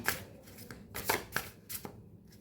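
Tarot cards are shuffled by hand close up, giving a quick run of soft riffling flutters and light slaps in uneven bursts, with nobody speaking.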